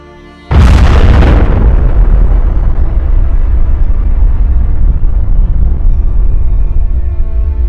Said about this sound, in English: According to scientists, it all started with a Big Bang.